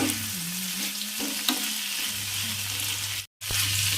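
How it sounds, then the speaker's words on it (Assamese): Brinjal slices and a cabbage-potato mix fry in a pan, a steady close sizzle and crackle with occasional stirring scrapes, briefly cut off near the end. "এইফালে কবি আলু মিক্স ভাজি বনাই আছোঁ লগতে এইফালে বেঙেনা ফ্ৰাই কৰি আছোঁ"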